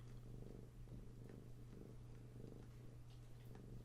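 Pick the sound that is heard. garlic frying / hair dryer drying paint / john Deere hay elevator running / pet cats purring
pet cats purring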